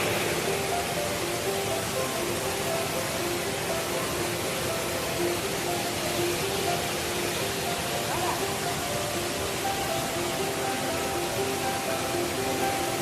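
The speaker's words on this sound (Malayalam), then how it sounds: "വെള്ളം മനോഹരമായിട്ട് ഒഴുകിക്കൊണ്ടിരിക്കുകയാണ്." Aruvikuzhi waterfall pours down in a steady, dense roar of rushing water that is loud and constant throughout, with no breaks or other distinct sounds.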